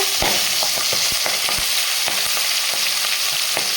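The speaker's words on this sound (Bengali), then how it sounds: "এখানে আমার তেলটা গরম হয়ে গেছে দিয়ে দেবো মাছ" Prawns fry in hot oil for a Bengali prawn malai curry, giving a loud, unbroken close-up sizzle with scattered small pops and crackles throughout.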